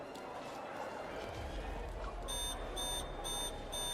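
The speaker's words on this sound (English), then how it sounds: "The alarm becomes louder." Alarm blaring in the video game Love and Deepspace, a rapid run of bright electronic beeps in repeated bursts over a low rumbling background.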